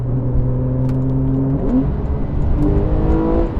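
A Porsche 911 Carrera 4S or Cayman S engine drones loudly from inside the car while driving, its pitch holding steady and then dropping and climbing through a gear change, with no voices.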